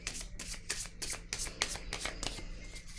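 Cards are shuffled and drawn by hand for a card reading, giving a rapid run of crisp, close riffling snaps in quick bursts.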